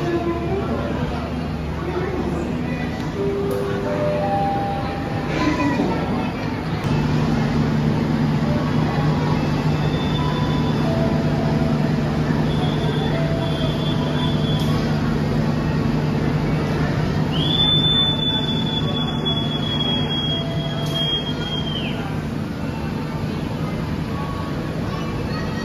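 The Ijen Express passenger train idles and rumbles at a station under steady crowd chatter, with a long high whistle blowing partway through.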